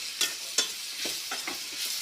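Ridge gourd palya sizzles in oil with its tempering, giving a quiet crackling fry broken by several short scraping stirs over about two seconds, with no voices.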